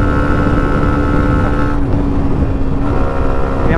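A Hero Xtreme 125R 125cc motorcycle engine drones loudly and steadily while riding, holding a high rev with a brief dip in pitch midway before climbing again, under constant wind rush.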